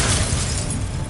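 An Expulso spell explosion in Hogwarts Legacy, a brief, loud, broadband burst with a heavy low rumble, sustained for about a second and heard without speech.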